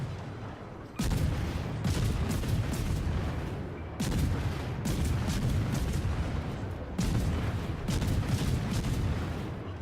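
Repeated heavy blasts from a torpedo strike in World of Warships, fired from the Akizuki destroyer, land as three loud explosions about three seconds apart, each followed by sustained roaring rumble.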